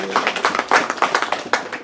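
A church congregation claps along in worship, sharp uneven hand claps arriving roughly every quarter second with a loose rhythm, fairly close and distinct over a quiet background.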